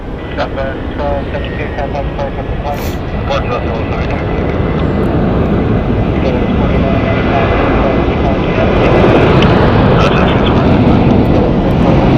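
An American Airlines Boeing 737 at Phoenix Sky Harbor Airport produces a loud, sustained engine roar that swells toward the end, with radio chatter and a voice heard over it.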